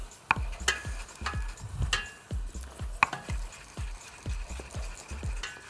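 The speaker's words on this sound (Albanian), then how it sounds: "tani ti skuqesh shumë mirë dhe qepa dhe hudra" Onion, garlic and potatoes sizzle in a pan for a creamy mushroom and potato soup, with repeated stirring and scraping clatter in an uneven rhythm, faint and close, with no talk.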